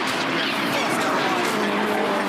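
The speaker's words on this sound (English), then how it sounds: "For turn 2, watch the car slide." A touring race car slides through turn 2 during a Touring Car Masters race, its engine roaring steadily with tyre scrub and skid noise throughout, a voice faintly underneath.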